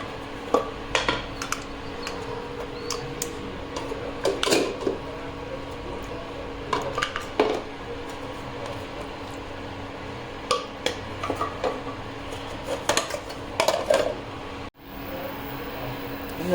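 Fried chickpeas and potatoes being tipped out of a pan, with scattered clinks and scrapes of metal cookware and utensils against a steady kitchen hum, the clatter coming in short irregular bursts.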